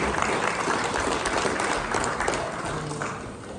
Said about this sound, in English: I just want to applaud you and the staff again